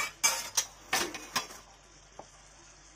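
Stirring potato-cauliflower curry in a pan with a spoon, heard as a few sharp scraping clinks against metal in quick succession, then near quiet with one soft tap and another knock at the end.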